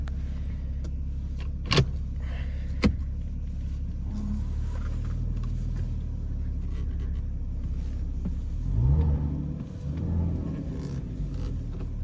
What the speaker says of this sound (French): la sonorité du Flat 6 de chez Porsche, on ne pourra jamais s'en lasser.